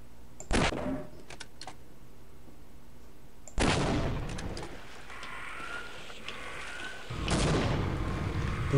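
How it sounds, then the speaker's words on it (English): Rocket-propelled grenades fire in the video game Half-Life: three separate heavy blasts several seconds apart, each a sharp, loud burst trailing into a rumbling, hissing tail. "Should I unload some rocket-propelled grenades?"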